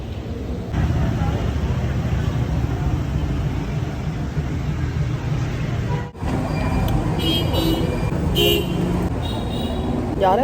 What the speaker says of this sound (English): Y'all, they love to honk here.